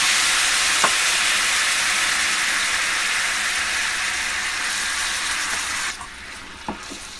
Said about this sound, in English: The meat is first cooked in a well-heated pan.